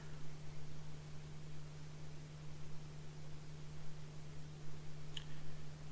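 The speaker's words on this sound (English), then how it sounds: "it's probably the fan in the background" A steady, quiet whir of a fan hums in the background, with a low constant drone and a brief faint tick near the end.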